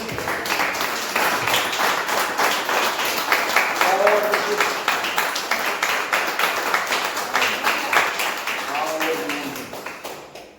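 A church congregation claps in an even, rhythmic pattern that continues for several seconds and fades near the end, with voices calling out over the clapping.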